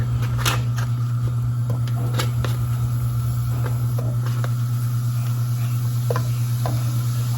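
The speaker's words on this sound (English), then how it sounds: "Now we can hear it sizzling." Food sizzles quietly in a pan under a steady electrical hum, with occasional clicks and light utensil taps.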